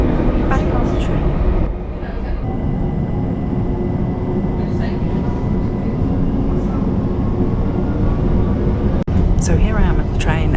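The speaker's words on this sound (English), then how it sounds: "Back on the train." A train rumbles along the rails toward Crystal Palace in London, a loud continuous roar of wheels and carriage noise with brief clatters, heard from onboard with voices talking over it.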